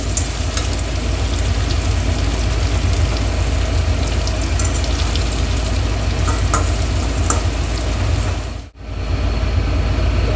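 Potatoes, papaya and carrots frying in oil, a loud, continuous close sizzle with light stirring that cuts out briefly near the end before resuming.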